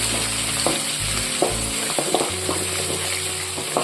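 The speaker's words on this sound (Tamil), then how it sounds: "இதெல்லாம் சேர்த்து நல்லா எண்ணெயில் வதக்கிடுவோம்" Onions sauté in hot oil with a steady, close sizzle and crackle, small pops rising above the continuous hiss.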